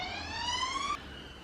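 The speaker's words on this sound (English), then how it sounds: "Unmarked police car." Police siren from an unmarked car, a loud wailing tone with strong harmonics that holds steady and then cuts off abruptly about two-thirds of the way through, leaving only background noise.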